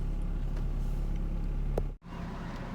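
A Saturn SC2 car driving down the road gives a steady, close engine and road rumble that briefly cuts out for a split second before resuming.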